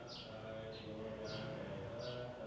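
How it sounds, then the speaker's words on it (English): Several brief, high bird chirps ring out at a distance at an old temple in Lamphun, Northern Thailand, spaced a few seconds apart, faint over a steady low background murmur. "You can hear the birds chirping."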